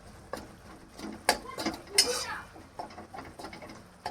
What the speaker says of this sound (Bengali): টমেটোগুলো আমি একটু খুন্তি দিয়ে একটু গলিয়ে দিচ্ছি